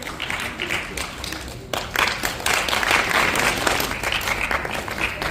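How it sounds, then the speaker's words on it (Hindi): An audience at a Hindi music and felicitation event claps to welcome honoured guests. The clapping runs moderately at first, then swells abruptly into a louder, fuller burst of many hands that holds strong to the end. "जोरदार तालियों के साथ हम स्वागत करें"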